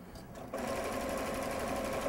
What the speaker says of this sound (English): just sew one side